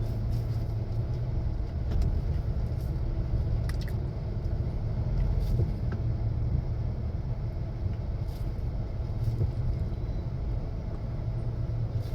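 Evening traffic on Souphanouvong Road in Vientiane forms a continuous low rumble of passing cars and heavier vehicles, steady and moderately distant, with occasional faint clinks and no voices.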